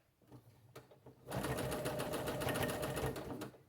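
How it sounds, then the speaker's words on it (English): A sewing machine stitching a heating pad runs in a fast, steady mechanical whir after a short quiet pause with a few clicks, loud and close with no talk. "So I'm going to stop here, but I'm going to back stitch."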